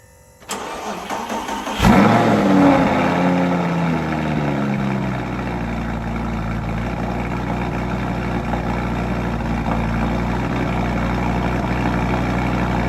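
A not-so-perfect supercar being rebuilt cranks and fires up, then settles into a loud, steady idle with a constant mechanical drone.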